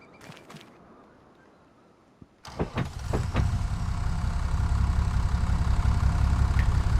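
A Stara tractor in Farming Simulator 25 starts with a few clanks, then idles with a steady low diesel rumble that builds slightly and holds, close and moderately loud.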